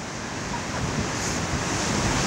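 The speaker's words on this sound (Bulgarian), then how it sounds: "Ето, погледнете колко прекрасни вълни." Sea waves washing along the shore on a seaside walk, a continuous loud surging roar mixed with wind buffeting the microphone, no voices.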